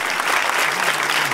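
A studio audience bursts into dense, steady applause, with many hands clapping loudly and close for a brief, unbroken stretch.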